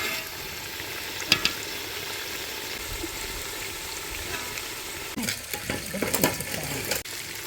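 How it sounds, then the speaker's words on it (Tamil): Marinated fish pieces fry in hot oil for a fish biryani, a continuous close sizzle with a few clinks and stirring scrapes toward the end. "பிரட்டி வச்ச மீன் எல்லாம் எண்ணெயில் போட்டிருக்கு."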